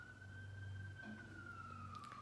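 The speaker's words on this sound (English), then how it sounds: "excuse the siren, guys." An emergency vehicle siren wails outside, a single steady tone slowly falling in pitch, faint and distant beneath a low hum of indoor background noise.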